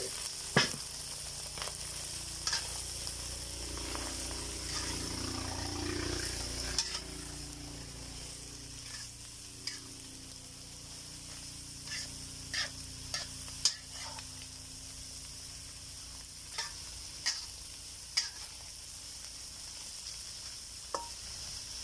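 Shredded cabbage stir-frying with ground pork in a pan gives a steady close sizzle, with scattered sharp clicks of a utensil scraping and tossing throughout, no voices.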